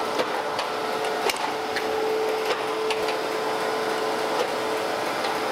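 A surface grinder makes a pass across a camel back straight edge casting, a steady close whirring grind with a faint tonal whine and light periodic ticks throughout.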